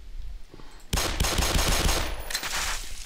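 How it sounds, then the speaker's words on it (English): Rapid Glock pistol shots in the video game Black Mesa fire in a dense, loud burst that starts abruptly and keeps going as a quick string of cracks with no talk over them. "Glock shot? Oh, okay, that's a gun"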